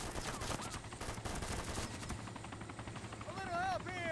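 Heavy enemy gunfire and distant fusillade in the Arma II military shooter, continuous crackling bursts, with a helicopter-like drone and some whistling tones later under the fire.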